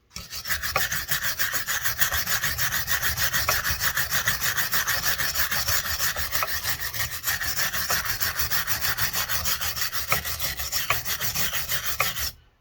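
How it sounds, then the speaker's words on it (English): A regular wire brush scrubbed by hand over a Mopar 360 cylinder head gives a steady, loud, continuous rasping scrape with a fast back-and-forth rhythm, close up and alone for about twelve seconds. "you can do it by hand and a brush, just a regular wire brush"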